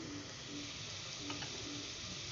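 Onions for chana pulao fry quietly in a pan, a soft even sizzle with faint stirring scrapes, steady and low in level with no voices.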